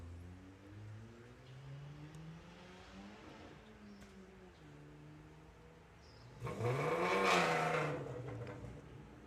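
A VW Golf drag racing car runs at Santa Pod, engine note climbing through gears at a distance, then a louder, closer blast of revving and roar near the end.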